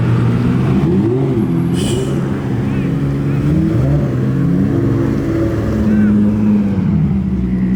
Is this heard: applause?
no